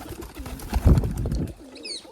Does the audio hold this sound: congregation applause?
no